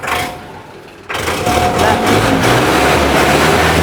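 A tractor engine revving in a Punjabi village, a loud continuous engine roar that jumps up after a brief dip and holds steady, close to the listener.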